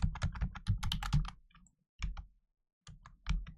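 Bursts of quick clicking keystrokes on a computer keyboard while a note is typed, close and fairly quiet, in short runs broken by brief pauses.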